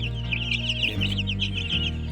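A chicken, after swallowing a lump of feed stuck in its throat, keeps up a continuous string of close, raspy clucks and chirps over a low steady hum, with no talk.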